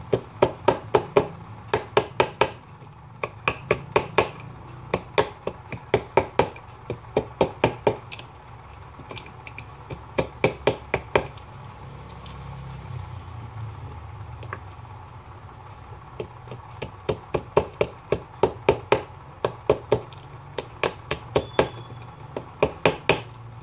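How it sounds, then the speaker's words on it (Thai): Hammer tapping on acrylic plastic sheet during bending and folding work, sharp knocks in quick bursts of several taps separated by brief pauses, fairly close and crisp with no talk. "เราจะตอกก็เอามือกันไว้นะไม่ให้ค้อนโดนพลาสติกอ่ะ"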